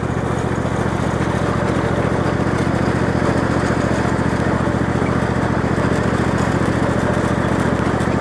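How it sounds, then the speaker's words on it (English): A lawn mower engine runs loud and steady at close range, a constant droning hum with no change in pitch throughout. "The nice thing about this lawnmower,"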